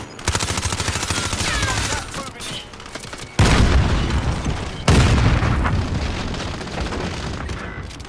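Rapid video-game gunfire and grenade blasts come in loud bursts, with two sharp explosive booms punctuating continuous automatic fire, while players shout over the action.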